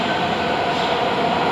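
A metro train rumbles steadily and loudly at Peachtree Center station, a dense continuous roar with no pauses and no voices.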